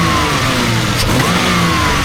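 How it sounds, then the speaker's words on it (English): A 1972 Diamond Reo truck engine, running again after sitting for 20 years, roars loud and close as the throttle is blipped, a brief rise in revs over a steady rumbling idle. "See what happens if we blip the throttle."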